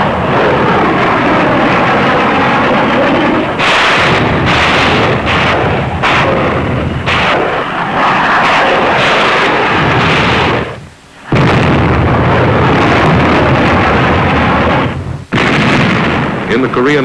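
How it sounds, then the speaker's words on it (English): Heavy naval guns of the battleship USS New Jersey bombard the Korean shore, loud booming blasts and rumbling bursts repeating over a dense, continuous roar, with a sharp break near the middle before the barrage resumes; a voice seems to talk underneath. "In the Korean emergency, our ship has been put to work in shore bombardment."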